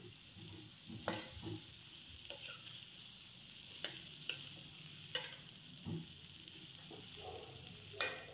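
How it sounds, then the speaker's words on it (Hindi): Green beans and potatoes fry in spices in a pan, a steady soft sizzle under intermittent scraping stirs of a spoon, close and fairly quiet, no voice over it. "बीन भी डाल देंगे इसमें और इसको चलाएंगे मिक्स करेंगे इसमें"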